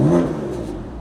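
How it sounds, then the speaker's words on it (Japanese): A BMW F82 M4's engine gives a short, close, throaty rev that settles into a lower idle-like hum within a second. "エンジンね、これ爆音なのかな？いい音するのかな？"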